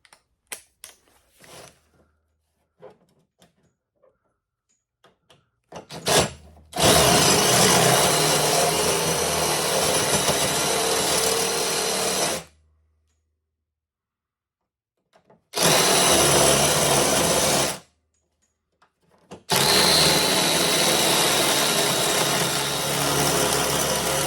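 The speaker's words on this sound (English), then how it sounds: "we'll go to the last size drill bit." A power drill whines loudly in three sustained bursts, separated by pauses, drilling out a door hinge rivet on a VW Beetle, with a few light clicks and taps beforehand.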